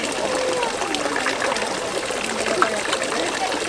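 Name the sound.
water poured over hands for cleansing at a Kamakura temple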